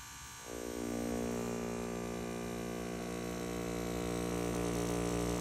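A lightweight electric tattoo machine buzzing in a steady, loud, continuous drone that starts after a brief quieter moment and holds evenly throughout.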